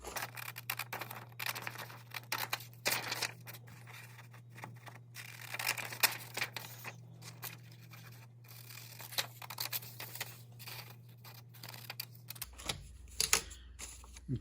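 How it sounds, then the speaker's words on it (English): A paper graphic for a homemade blinking badge being cut out, with quiet, close snips and scraping paper rustles in an irregular patter over a low steady hum, the hum dropping near the end. "Next, we cut out the graphic."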